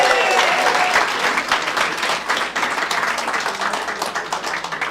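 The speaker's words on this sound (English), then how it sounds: "A round of applause for Yael Khan." A crowd applauds a guest at a community gathering, dense sustained clapping that starts loud and tapers slightly over a few seconds, with no talk over it.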